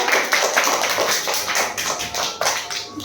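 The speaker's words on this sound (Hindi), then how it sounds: "इनके लिए भी तालियां बजा दीजिए।" Students in a primary school classroom applaud a classmate, giving a few seconds of loose, dense handclapping close by with no speech over it.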